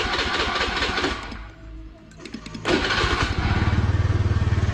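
A Honda Beat automatic scooter with a timing module and launch control fitted to its standard exhaust cranks, catches and then settles into a steady, rapid idle close by.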